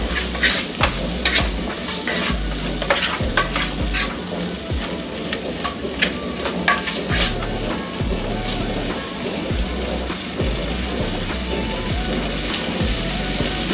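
Finely chopped tomatoes frying in oil for chole masala, a loud, continuous rain-like sizzle with frequent spatula scrapes and clatters against the pan, close up with no talk.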